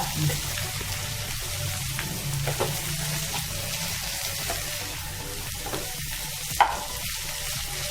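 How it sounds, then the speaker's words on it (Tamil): Okra (vendaikkai) sautéing in a pan for kola, a steady close sizzle with soft stirring scrapes and one sharp clink near the end; no speech. "நல்லா பாருங்கள் வெண்டைக்காய் வதங்கிடுச்சு"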